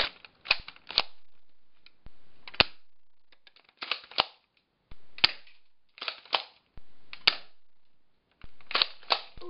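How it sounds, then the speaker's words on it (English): An airsoft shotgun fires a string of sharp snapping shots at a range, each followed by a brief rattle, coming in spaced bursts of two or three, loud and close. "Now bring out the big guns, the shotgun."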